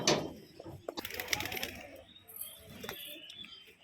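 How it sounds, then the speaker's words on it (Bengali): Madras pigeons at a home in Beldanga coo softly in short, faint bursts, mixed with light rustling and fluttering close by in a quiet setting. "কাবির ভাইয়ের অসাধারণ পায়রা"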